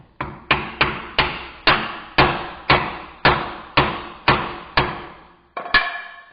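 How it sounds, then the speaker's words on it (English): A mini sledge hammer strikes a wood block to seat a wheel bearing on a Volkswagen Mk4 Jetta: about a dozen sharp, evenly spaced knocks, close and loud, with a short pause before the last blow. "So I'm going to hit it with my wood and mini sledge."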